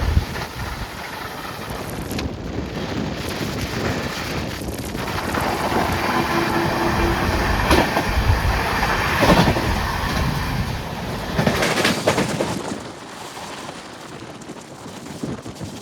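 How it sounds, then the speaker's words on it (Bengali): A steady loud rumble of the Shree Jagannath Express at about 130 km/h near Uluberia, with rushing wind noise, swelling and roaring continuously, heard from on board. "ট্রেন কিন্তু খুব স্পিডে যাচ্ছে এখন, প্রায় 130।"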